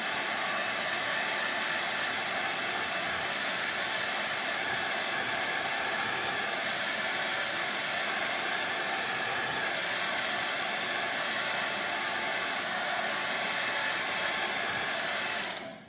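A hair dryer blows on chalk paint on a stencilled banner, a loud, steady, close whooshing roar that holds unbroken throughout and cuts off right at the end.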